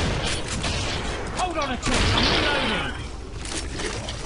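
Rapid bursts of gunfire and booming grenade blasts crowd together, with a sweeping whoosh in the middle, loud and chaotic, in a Killing Floor video game firefight.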